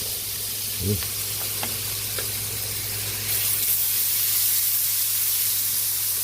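Pork frying in a pot, a steady loud sizzle and hiss throughout, with a few brief clinks and a swell of spattering partway through; no talk heard.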